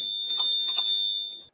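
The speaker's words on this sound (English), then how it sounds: "What's also important is that it has a bell" A bell built into the brake lever of an Eskute Netuno Plus e-scooter, with two quick ding strikes leaving a clear, high metallic ring that sustains and then fades, close and alone.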